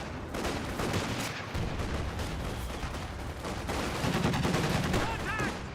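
An M15 half-track fires repeatedly in Company of Heroes 2, rapid close bursts of gunfire mixed with battle noise and a talking voice, the shots running continuously throughout.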